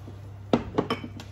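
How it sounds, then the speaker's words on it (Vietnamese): A frying pan is set up on the stove to fry meat, giving about four sharp metallic clanks and knocks in quick succession, close and clear against a faint background hum. "Rồi bây giờ mình bắt chảo lên mình sẽ chiên thịt"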